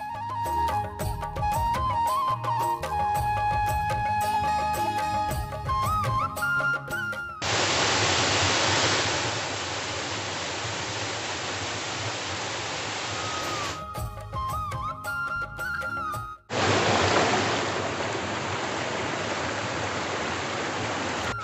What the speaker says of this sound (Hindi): बहुत ही खूबसूरत है खरसुरा के झुंझ झरना